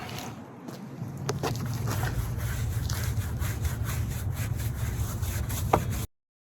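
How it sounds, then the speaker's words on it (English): Wheel woolies and a scrub brush scrub the grimy wheels and white-wall tires of a 2011 Cadillac DTS. Steady, close, continuous scrubbing lasts about six seconds before stopping abruptly. "we're going to use these wheel woolies to get in there and get them good and clean, and then the scrub brush to get the gunk off the white walls"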